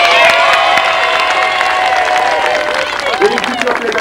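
An audience at a 1988 Cannes event applauds and cheers, loud dense clapping mixed with shouts and whistles that thins out toward the end.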